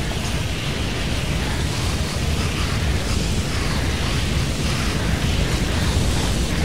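Fire burns in a meth lab in GTA V, a constant loud roaring rush of flames that holds steady throughout with no breaks.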